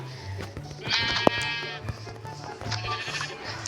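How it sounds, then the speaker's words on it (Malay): A goat bleats once, loud and wavering, in a Minecraft world, over background game sounds and footsteps, with faint talk nearby. "Weh, ada kambing."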